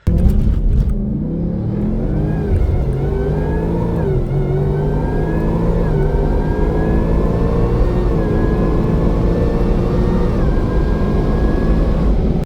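A Roush S650 Mustang launches down a drag strip with a gentle roll into the throttle, its engine loud and close, climbing steadily through gears with rising whine and brief dips at each shift.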